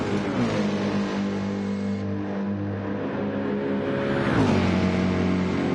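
In the Gran Turismo 7 Le Mans 24 Hours race, a Lexus V8 race car and a Mercedes with a 6.2-litre V8 drone loudly and continuously, their engine notes rising and falling together as they run side by side.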